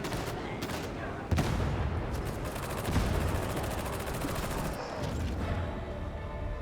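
Sustained gunfire in Warhammer 40,000: Darktide, a dense rattling fusillade of rapid shots running throughout with a few louder bursts, set amid game combat noise.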